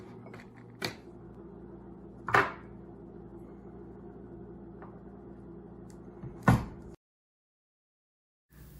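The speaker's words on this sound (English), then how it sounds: "I open this plastic applesauce jar using this method" A strap wrench twists open a plastic applesauce jar held between the legs, giving a few sharp, separate clicks and cracks spaced a couple of seconds apart, fairly close and alone, before a short silence.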